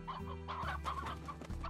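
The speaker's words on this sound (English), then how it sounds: "We have chickens." Chickens in the video game Slime Rancher cluck in short, repeated bursts, close and clear over a steady low game background hum.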